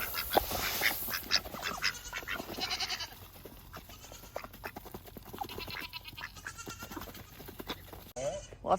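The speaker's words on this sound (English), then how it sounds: "The ducks would very much like their breakfast and won't stay out of the shop." Ducks hungry for breakfast quack in short, irregular bursts around a farm shop, mixed with goat-like bleats and other animal calls, fairly close, over background noise, with a person speaking faintly at times.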